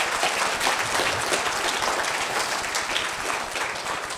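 A crowd applauding steadily, a dense wash of many hands clapping at an even level throughout, with no one speaking over it.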